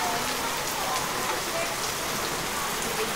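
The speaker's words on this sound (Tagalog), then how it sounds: "Ang lakas-lakas ng ulan." Heavy rain pours steadily in Laiya, Batangas, a dense, loud, unbroken hiss of drops hitting surfaces, with no voices over it.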